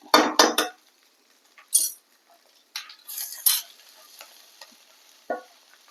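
Bread upma with ghee is stirred in a pan, heard as sparse clinks and scrapes of a spoon against metal in short bursts separated by near-silent gaps, with only a faint background hiss.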